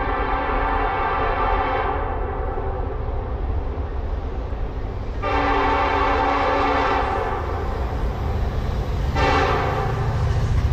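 A CSX freight train, M404, passes at speed with a loud, steady rumble of wheels on rail while its multi-tone air horn blares in three long blasts, the last two starting abruptly.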